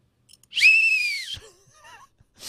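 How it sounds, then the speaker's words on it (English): A piercing whistle is blown once in celebration, a bright sustained blast lasting under a second with a slight pitch rise, followed by faint scattered squeaks and a short burst of noise. "I was a little worried that if I blew this whistle, it would be so piercing it would hurt your ears"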